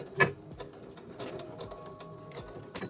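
A sewing machine stitches thin bias binding with a rapid mechanical whirring and clatter, a sharp clunk near the start, then steady needle ticking close up without speech.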